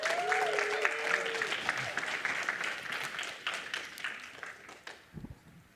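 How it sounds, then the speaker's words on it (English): Warm applause from an audience at a student conference, loud and continuous at first, then thinning out toward the end, with brief voices and whoops mixed in. "y'all give a big round of applause to my beautiful wife"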